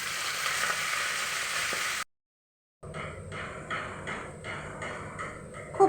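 Fenugreek leaves go into a hot pan for methi aloo, a bright hiss of frying that cuts out briefly, then returns as a crackling sizzle with bursts of spatter, close and alone without speech.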